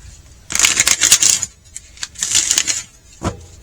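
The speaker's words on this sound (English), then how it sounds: "Let me give these a good shuffle." Tarot cards being shuffled by hand in two long riffling bursts, crisp and close, followed by a short final flutter; no talking.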